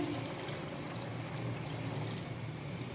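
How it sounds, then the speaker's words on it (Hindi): Water pours into a pot of Shinwari beef karahi already mixed with spices, a continuous, steady splashing pour heard up close without interruption or voices. "अब पानी डाल दूंगी मैं इसमें।"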